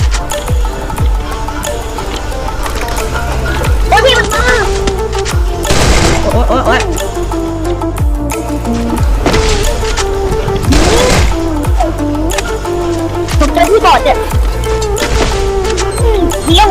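Rapid bursts of video game gunfire and explosions rattle continuously over a steady soundtrack, with a voice talking excitedly over the action.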